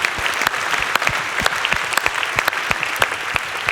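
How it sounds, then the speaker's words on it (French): Audience applauding at a business awards ceremony in Cher, a dense, steady wash of many hands clapping with sharp individual claps standing out, sustained throughout without speech. "On peut vous applaudir une nouvelle fois."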